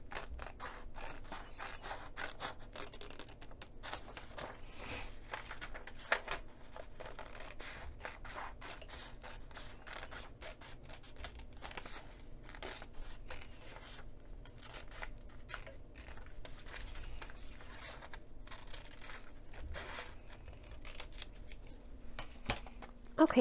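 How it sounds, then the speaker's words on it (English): Scissors snip through a paper pattern and fabric while a crossbody bag is being made. Soft, irregular cutting and rustling clicks go on steadily at close range and low volume, with no talk. "I'm going to snip my scissors right in the middle of the paper"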